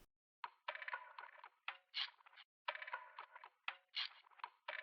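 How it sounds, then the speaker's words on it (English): A second ambient percussion loop in an R&B beat, built in FL Studio: textured, mid-to-high rattling and shuffling hits in bursts with short gaps, quiet and dry, no voice. "And then I added this other perk loop that sounds like this."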